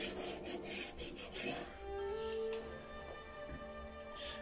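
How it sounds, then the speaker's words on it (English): A knife slicing pork into thick strips for Cantonese char siu, giving a steady rasping, sawing scrape on a board with short bursts of cutting, close and fairly quiet, with faint tonal background hum. "We're going to make a meat strips by cutting it off into 2 fingers thick."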